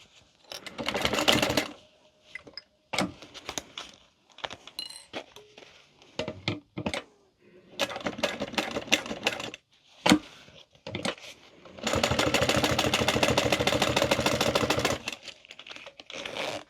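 A home sewing machine stitches a fabric wallet in several bursts of rapid, steady needle chatter, separated by pauses with small clicks and handling noises.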